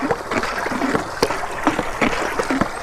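Cow urine and asafoetida powder are stirred into water, making continuous close sloshing and swirling with small rhythmic splashes.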